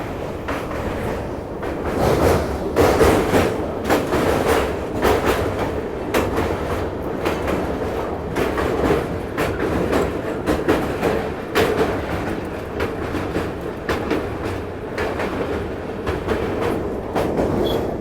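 A Rajdhani Express train rolls along the rails with continuous rumble and rhythmic clickety-clack, loud and close, and the wheel beats repeat steadily for the whole stretch with no voices.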